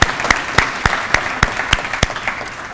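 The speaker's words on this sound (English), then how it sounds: "How about one more round of applause for Todd Kolczynski?" Audience applause at a ceremony, a crowd clapping steadily at moderate distance with sharp individual claps standing out.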